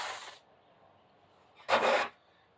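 Trowel spreading grout across wall tile, two short separate scraping rasps with quiet gaps between them, close and fairly loud.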